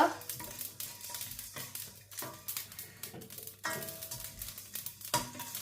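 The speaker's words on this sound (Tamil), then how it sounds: "இப்போ பார்த்தீங்களான்னு சொன்னால் மிளகு சீரகமும் வறுபட்டுடுது பாருங்க" Black pepper and cumin seeds dry-roast in a pan for Sri Lankan aadi koozh, with repeated scraping and rattling strokes of stirring over a light crackle, close and steady.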